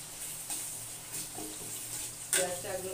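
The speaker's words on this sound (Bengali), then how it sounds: "এখানে আমার বেরেস্তার জন্য পেঁয়াজ ভাজা হচ্ছে" Onions fry for biryani birista, making a soft steady sizzle at low volume, broken by a few clinks and stirring knocks.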